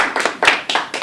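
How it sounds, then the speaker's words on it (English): A few people clap for guests at a social interview, a sparse handful of distinct, close claps spaced irregularly over about a second. "Let's give them a round of applause."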